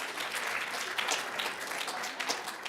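Audience at a nursing school fall pinning ceremony applauding, a steady patter of many hands clapping, moderately distant and fairly soft, with no speech over it.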